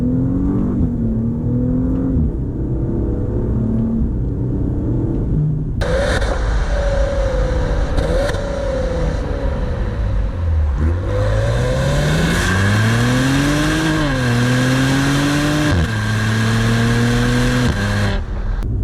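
A 2022 Maserati Levante GT with the 345-horsepower entry-level engine revs hard from inside the car, rising and falling engine tones through several pushes, loud and close with no talk.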